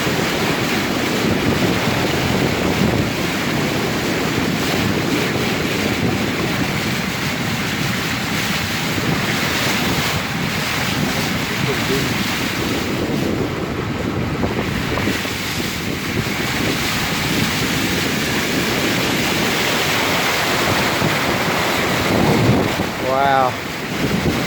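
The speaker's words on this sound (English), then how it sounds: "It's flowing like a river." Floodwater rushes like a river through a normally dry street, a steady loud broadband wash that runs continuously under heavy wind buffeting on the microphone.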